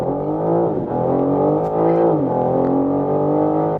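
A 510-horsepower BMW M4 Competition coupe launches at full throttle toward 100 km/h, its loud, close engine note climbing steadily and dipping at each of several quick upshifts, with no talking.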